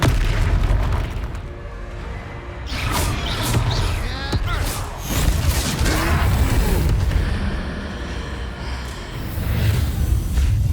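A Confringo spell explodes in Hogwarts Legacy, heavy booming blasts and crackling bursts over a rumbling game soundtrack, loud and close, with voices speaking partway through.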